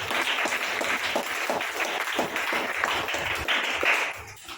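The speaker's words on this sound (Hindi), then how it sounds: "ताली बजाओ ना" A church congregation claps hands during a Hindi sermon, a lively, uneven patter of many palms with distinct sharper slaps popping out, fairly close and sustained, easing off at the end.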